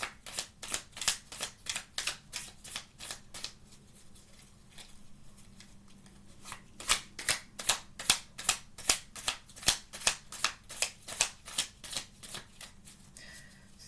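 Tarot cards shuffled by hand, a quick run of crisp riffling flaps, a short pause, then another steady burst of rapid card snaps, close and clear.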